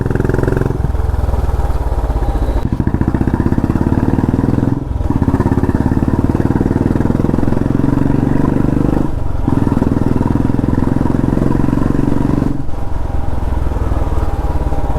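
A Royal Enfield Classic 350 Reborn motorcycle engine runs loud and close with a steady low thump, dipping briefly several times as the throttle eases, with no voices.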